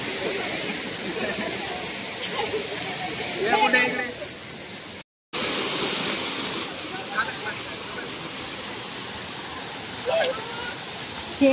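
Kapildhar waterfall's constant heavy rush of water fills the scene, loud and unbroken except for one brief dropout, while people talk and call out over it.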